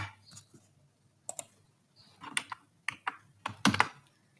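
Computer keyboard typing while MySQL table values are entered: irregular bursts of key clicks with short pauses between, close and fairly clear, no talking.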